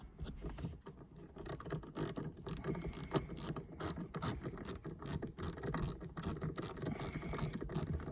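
Faint, close ratcheting clicks come in quick uneven bursts as the rear park brake adjuster on a Suzuki SX4 caliper is dialed back by hand, with no talk.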